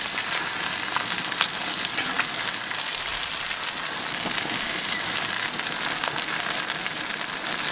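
Sole fish frying in butter in a pan makes a dense, even sizzle that holds steadily and close throughout, with no voices.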